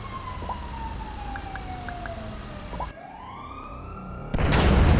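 A wailing emergency siren in Grand Theft Auto V sweeps in long tones over steady engine and street noise, cuts off briefly near the three-second mark, then a loud burst of roaring noise hits at the end.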